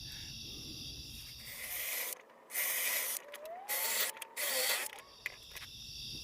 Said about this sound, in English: I'm just going to drill these by hand.